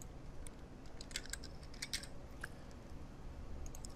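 Someone types on a computer keyboard in quick irregular bursts of light key clicks, faint and close, with no voices.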